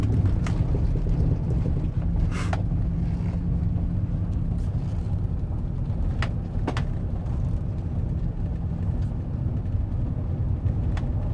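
A Chevrolet Silverado pickup with a 6L80E automatic transmission drives at low speed, giving a steady engine and road rumble under wind buffeting against the microphone, with occasional faint clicks and no speech.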